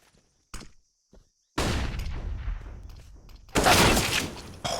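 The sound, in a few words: gunfire in Counter-Strike video game match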